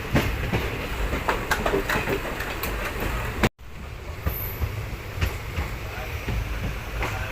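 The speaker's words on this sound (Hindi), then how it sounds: "हमारी ट्रेन शिवपुरी रेलवे स्टेशन पर।" A Gwalior–Bhopal intercity train rolls into Shivpuri railway station, a loud steady rumble with rhythmic wheel clicks and faint squeals throughout, briefly cut off midway before the rolling noise resumes.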